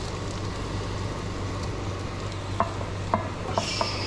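Egg mix stirred into meat sizzling in a greasy pan, a steady broadband fry hiss with a low hum beneath and a few sharp scrape or clink accents near the end.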